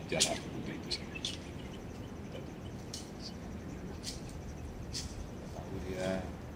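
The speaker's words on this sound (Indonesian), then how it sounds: "Suara yang jalak putih itu sendiri." Faint, scattered white starling chirps ring out at irregular intervals over a soft hiss of outdoor ambience, with a low murmur of talk beneath.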